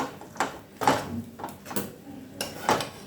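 Idli upma being stirred in a pan over a low flame, a spoon scraping and clinking against the pan in a few uneven strokes, close and fairly quiet with no voices.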